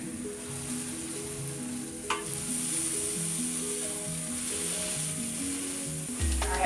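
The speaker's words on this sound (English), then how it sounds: "we're gonna allow this to get nice and toasty, slightly, you know, toasted on the bottom with that butter" A bagel toasts cut side down in butter on a flat griddle, giving a steady, close sizzling hiss. Background music plays throughout, and there is a brief clatter near the start and the end.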